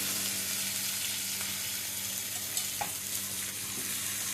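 Garlic fries in a pan for a paneer gravy, giving a soft, steady sizzle with a few light scrapes and taps of stirring, heard alone and fairly quiet.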